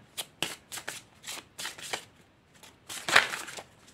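Oracle cards being shuffled by hand, heard as a series of short, crisp riffling bursts with brief pauses between them, close up and with no talking.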